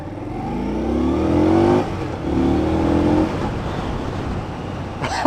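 A 2015 Indian Scout motorcycle accelerating hard, its engine revving up through two rising pulls with a brief shift gap between, loud and close, then dropping to a rougher cruise.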